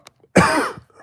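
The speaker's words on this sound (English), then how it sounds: "Sorry for the cough." A single harsh cough, close and loud, with a little faint noise around it.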